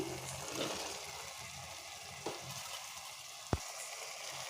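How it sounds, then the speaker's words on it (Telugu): Boiled chickpeas frying with spices in a pan for chole mealmaker masala curry, a soft steady sizzle with a couple of sharp spoon clicks against the pan. "ఈ శనగల్ని టూ మినిట్స్ ఇలా ఫ్రై చేసేసి"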